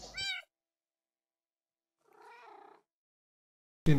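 Cats meowing in the video game Minecraft: a short high meow, then after a pause a softer, lower meow, with another sound cutting in at the very end.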